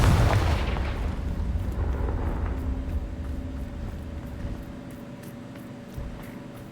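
A Confringo blasting spell goes off in Hogwarts Legacy, a loud booming explosion that bursts at the start and rolls into a long, fading rumble with lingering crackle and a steady low hum beneath.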